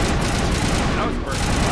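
Rapid burst of gunfire in the video game Mass Effect, loud and dense across the whole stretch with a brief dip near the end, under a voice talking.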